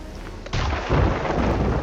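A thunder crack from a lightning strike during a rainstorm in the pirate video game Sea of Thieves, a loud, sudden rumbling boom that rolls on for over a second with no talk.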